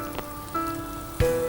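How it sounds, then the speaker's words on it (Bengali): Sweet chicken pieces fry in hot oil with a soft, steady sizzle, broken by a few sharp pops and crackles. "মজার মজার এই মিষ্টি চিকেন ফ্রাইয়ের আমরা যেটা রেডি করেছি সেটা অলরেডি তেলে দিয়ে দিয়েছি"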